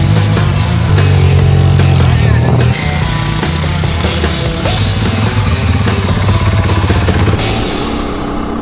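A group of about 13 off-road motorcycles sets off on a morning trail ride toward single track, their engines a loud, steady, close-up drone that drops slightly in pitch partway through, with no talk.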